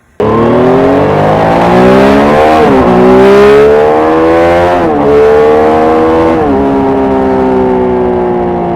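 A 2020 Triumph Street motorcycle fitted with an SC Project S1 titanium exhaust and S-curve pipe revs hard, its engine climbing in pitch through several throttle blips, loud and close, with no talking.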